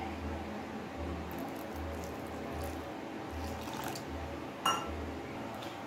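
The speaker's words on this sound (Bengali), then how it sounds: "এবার এটাতে আমি অল্প অল্প জল দেব, দিয়ে একটা ডো তৈরি করে নেব" Water trickles a little at a time into flour in a bowl for a soft dough, with faint liquid splashes over a steady low hum and one brief sharp clink near the end.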